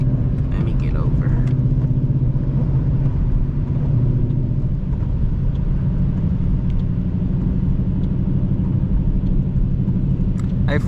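Ford Mustang GT driving on a snowy road, a loud steady engine rumble and road drone from inside the car, continuous throughout with people talking over it.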